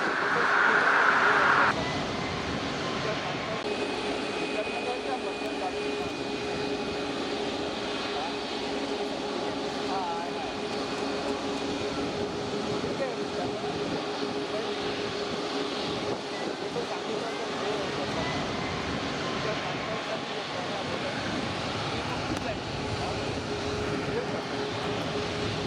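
An Air India plane takes off at Mumbai airport, its engines a steady distant roar throughout, with a brief radio voice at the start.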